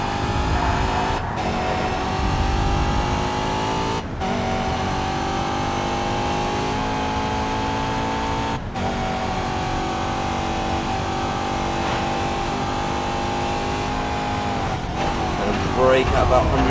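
A DTM race car engine in TOCA Race Driver 3 screams flat out at steady high revs, with a few brief gear-shift dips along the final lap, loud and continuous.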